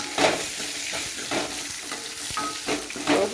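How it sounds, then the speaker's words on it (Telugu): A tempering of spices and dried red chillies fries in oil, with steady sizzling broken by several scraping stirs of a utensil against the pan, close and without talk. "పోపు బాగా వేగితేనే"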